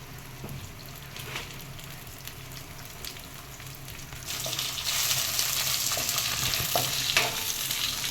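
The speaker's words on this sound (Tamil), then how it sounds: "நல்லா வதக்கி பிரண்டையை லைட்டாக உப்பு போட்டு" Pirandai (veld grape) sautéing in a pan with salt gives a steady sizzle with soft stirring scrapes. The frying grows noticeably louder and brighter partway through and keeps crackling up close, with no voices.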